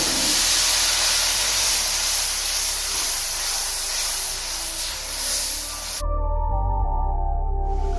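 Tomatoes hit hot masala in a pan for mutton korma, giving a loud continuous sizzling hiss of steam that runs for several seconds, then stops abruptly, leaving faint clinks and low thumps.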